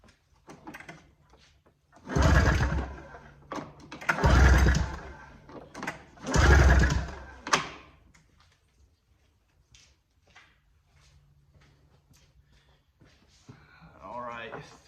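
Three strong pulls of a recoil starter crank a snowmobile engine during a cylinder compression test, each a two-second chuffing surge close by, evenly spaced, with quiet in between.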